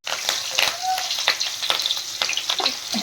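Hot oil sizzles and crackles loudly in a kadai while whole stuffed brinjals are fried, a steady frying hiss with scattered pops and a brief tonal squeak, no one speaking.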